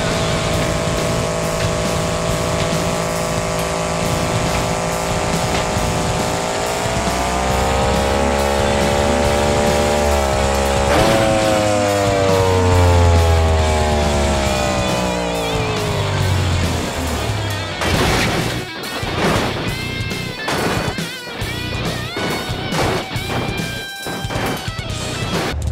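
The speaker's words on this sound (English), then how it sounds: "high speed jumping crash" El Toro Loco monster truck in BeamNG Drive revving hard with a rising, roaring engine pitch as it speeds toward a jump, then a chaotic series of loud crashing impacts and engine sputters as it lands and wrecks.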